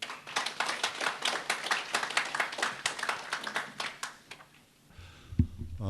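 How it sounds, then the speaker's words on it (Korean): Audience applause greeting the head of the National Assembly Research Service before his opening address at a housing policy seminar, brisk, close clapping that fades out near the end before a brief sound. "큰 박수로 맞아주시기 바랍니다."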